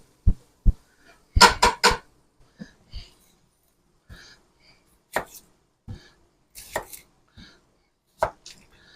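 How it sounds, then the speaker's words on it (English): A knife chops onions on a cutting board in a kitchen where a bacon, sausage and potato stew is being made. The sharp, close thuds come singly and in short quick clusters, with quiet gaps between. "Let's chop up some onions"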